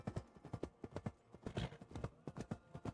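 Horse hooves gallop in Assassin's Creed Valhalla, a steady rapid clip-clop of repeated hoofbeats, close and moderately loud, with no one speaking.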